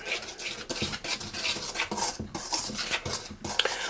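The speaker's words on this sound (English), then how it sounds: "all you're going to do is whisk this around" Salt, cinnamon and nutmeg are whisked around a bowl for a vegan Jamaican rum black cake, giving a steady, close scraping and rattling with quick repeated strokes throughout.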